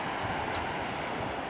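Sea waves wash on the shore, a brief steady roar of surf mixed with wind rumble, with no voices.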